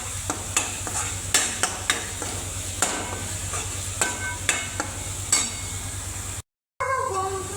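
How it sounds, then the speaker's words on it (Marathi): Masala stir-fried in oil in a pan, with a spatula scraping and knocking the pan in a steady rhythm over continuous close sizzling, then a brief cut to silence before the frying resumes. "मसाला टाकल्याच्या नंतर बी आपल्याला मसाला चांगला तेल सुटेपर्यंत परतून घ्यायचा"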